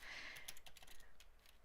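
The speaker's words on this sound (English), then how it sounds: "Hold on, I'm typing." Quiet, rapid clicking of keys on a computer keyboard in a courtroom, irregular bursts of soft taps with a faint hiss behind them and no talking.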